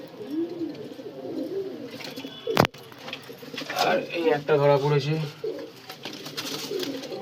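Short-sized pigeons kept for flying coo in low, rolling bursts while someone talks over them, with one sharp knock partway through.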